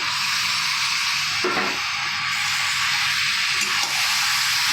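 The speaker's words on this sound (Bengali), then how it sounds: "এবার আমি মোচাটাকে ঢেলে দিলাম।" Boiled, finely chopped banana flower goes into a hot pan and sizzles. A steady close frying hiss is broken by two louder bursts of crackle as the mixture is stirred, with no speech.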